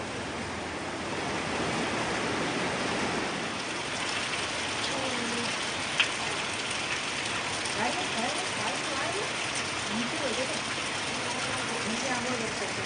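The first monsoon rain falls in Konkan, a steady, dense hiss of rainfall on surfaces that holds at an even level throughout, with faint voices in the background.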